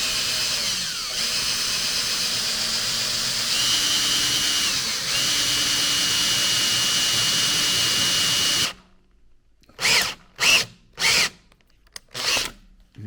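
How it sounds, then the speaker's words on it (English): A step drill bores through a Land Rover Defender 90 body panel, a steady loud whine holding for several seconds before cutting off, followed by four short bursts of drilling as the bit finishes the hole. "Destiny's gonna just show you the step drill going through."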